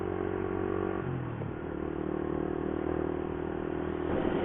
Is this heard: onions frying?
no